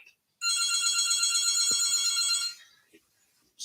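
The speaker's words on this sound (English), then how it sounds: "that's the phone" A telephone rings with a bright electronic trill that runs steadily for about two seconds and then cuts off, loud and close, with only faint noises after it.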